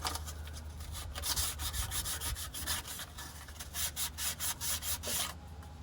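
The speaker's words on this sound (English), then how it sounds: "I've got some sandpaper that's kind of like emery cloth, and a little scouring pad just like you use in the kitchen" Metal surface on a Chevrolet Silverado rear differential being rubbed clean with emery-type sandpaper and a kitchen scouring pad, a quiet run of rhythmic scrubbing strokes that grows into quick, regular back-and-forth bursts close up.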